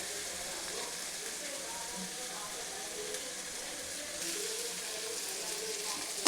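Mutton with chili powder frying in a pan, a steady hiss of sizzling that swells slightly toward the end, with faint background voices.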